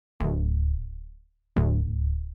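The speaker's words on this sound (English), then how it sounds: "So it was just some serum presets I found without all the effects." A Serum software synthesizer preset heard dry without effects: two low, punchy sustained notes, each with a sharp attack that fades over about a second, separated by silence and played alone.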